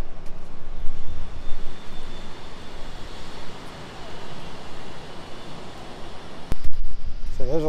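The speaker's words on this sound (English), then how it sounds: "I guess we're looking at planes." An airplane engine drones and roars steadily at an airport where construction is underway, a broad continuous rush that dips midway and swells again, with a brief clatter toward the end.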